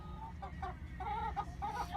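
Several chickens cluck softly in a short burst inside a coop over a low, steady background hum.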